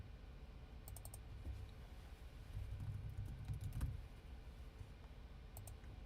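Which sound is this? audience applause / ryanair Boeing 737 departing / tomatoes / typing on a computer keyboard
typing on a computer keyboard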